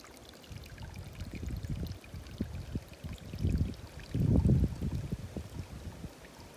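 Water in a creek running near a wine estate, a steady low rushing with swells of louder turbulent flow. It is close, continuous and carries no talk.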